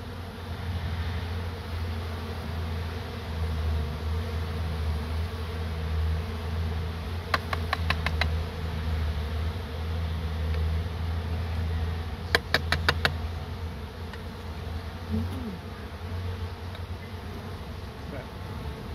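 Honey bees buzz in a steady, dense drone as a hive is moved out of a tree and scooped into a box, with a few brief clicks and knocks over the continuous hum.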